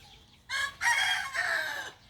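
A rooster crows once, loud and fairly close, a rising then sustained call lasting over a second in a rural yard where chickens are tied up.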